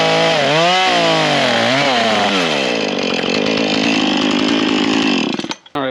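A small Husqvarna chainsaw revs loudly and close, its pitch swooping up and down before settling into a steady high whine, then cutting off abruptly at the end.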